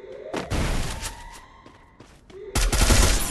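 Gunfire in the Free Fire battle royale game on a snow map: loud rapid bursts of automatic fire with a sharp opening shot, a brief lull with a whining tone, then a final heavy volley.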